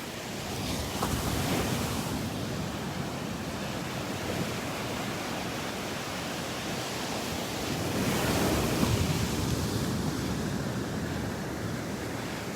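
Ocean waves breaking on the beach at Delnor-Wiggins, a steady wash of surf with wind rumbling across the microphone, swelling louder near the end.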